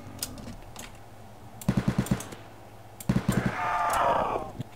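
Gunshots in a Roblox zombie survival game, two quick bursts of about five sharp, closely spaced shots each, separated by scattered single pops and a quiet background.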